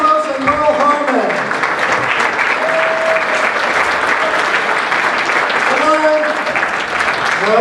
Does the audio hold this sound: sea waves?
no